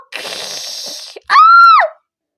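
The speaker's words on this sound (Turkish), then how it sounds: "Ya ne bağırıyorsun?" A person lets out one loud, sustained scream of fright after a stretch of noisy, breathy sound, then goes quiet.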